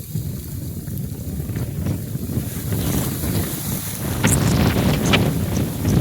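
A whirlwind gusts across an open farm field, a continuous rushing roar buffeting the microphone and building in strength toward the end.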